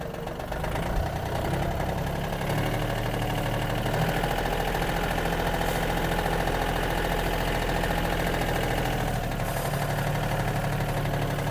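Japanese Yanmar AF-26 mini tractor engine running steadily as it pulls away in first gear, a loud, continuous low diesel chug with mechanical knocking throughout, close by and with no talk.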